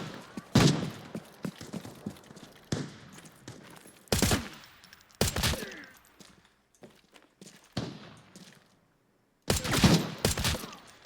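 Gunfire rings out in Arena Breakout Infinite in sharp, loud bursts and single shots spread across the stretch. Shuffling movement and footsteps fill the gaps, followed by a brief silence before a final volley.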